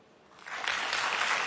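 A comedy-show crowd at La Cigale in Paris breaks into applause, the clapping swelling quickly from near silence into a dense, bright patter that holds steady.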